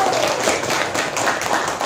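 A short burst of applause in a school classroom, many hands clapping together in a dense, continuous patter at close range.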